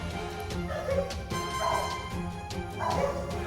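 Dogs bark in a few quick bursts around midnight, moderately loud and fairly close, with short gaps between volleys and some whining.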